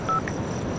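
A single telephone keypad tone, a brief steady beep as a number is dialed on a phone, alone against a faint room background in a movie scene.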